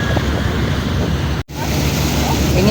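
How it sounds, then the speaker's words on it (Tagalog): Strong seaside wind buffets the microphone in a loud, continuous roar over surf, with one brief dropout midway. "Ang hangin. Pakahangin dito."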